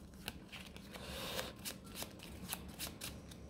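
Playing cards shuffled and handled while discarding during a tabletop card game, a close series of quiet riffling flicks and snaps with no talking.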